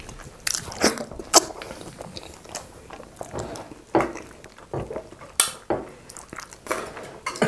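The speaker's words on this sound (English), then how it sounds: "She's still chewing." Close-up eating of big bites of fufu with ogbono soup and assorted meat, with wet chewing and biting alongside repeated sharp clinks of cutlery against a dish, all in uneven bursts.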